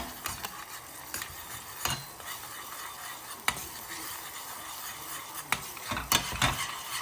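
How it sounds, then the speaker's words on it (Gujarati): Potatoes stirred into hot oil with red chili spices in a pan over a very low flame in a home kitchen, giving a soft, steady sizzle with sharp, scattered spatula scrapes and clinks, no talking. "અને આમાં આપણે બટેકા એડ કરી દઈશું. ગેસ એકદમ ધીમો રાખવાનું છે"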